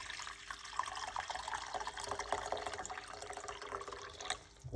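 Hot water is poured for banana tea with cinnamon stick and star anise, a continuous soft splashing trickle at moderate distance lasting several seconds.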